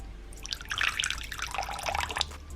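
Water poured into a tarantula enclosure, a soft, close trickle and splashing of liquid with small drips, fairly quiet and continuous for a few seconds.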